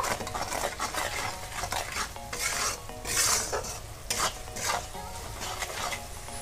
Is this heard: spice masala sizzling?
yes